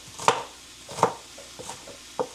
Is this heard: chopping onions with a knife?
yes